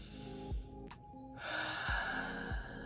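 Forceful breaths out through the nose or mouth, a short burst followed by a longer, rushing exhale, close and fairly quiet, over a low sustained musical tone.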